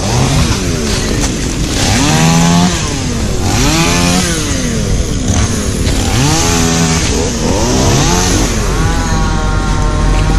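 A chainsaw roars close by while felling sao trees, its engine revving up and down in repeated surges as it cuts, loud and continuous throughout.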